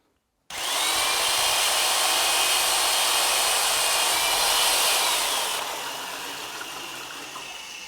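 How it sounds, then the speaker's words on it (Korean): An electric drill whirs steadily as it stirs settled ceramic glaze made of stone powder and water for pottery cups, a loud continuous drone that starts abruptly, then eases slightly in pitch and level toward the end. "드릴로 저어서 그 농도를 유효적절하게 잘 맞추셔야"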